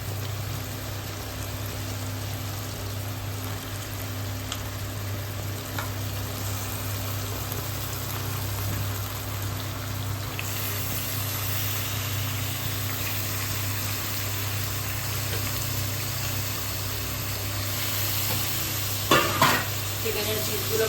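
Chicken pieces seasoned with chilli powder and green chillies fry and sizzle in a pan as they are stirred, a steady hiss with a low background hum, a few scraping clatters near the end.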